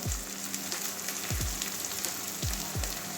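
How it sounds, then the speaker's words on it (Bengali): Ginger and garlic frying in a pan, a steady close sizzle with a few low thumps of stirring against the pan, no voices. "আদা রসুন আর কাঁচা গন্ধ যাওয়া পর্যন্ত ভাজব"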